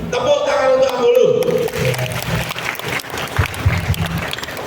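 Hall applause at a PGRI teachers' association halal bihalal gathering in Jember, a broad wash of clapping that continues under a speaker's amplified voice.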